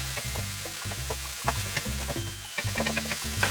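Courgette seasoned with salt, pepper and thyme is stirred in a hot pan, giving a steady sizzle with spoon scrapes and light knocks throughout, close and alone.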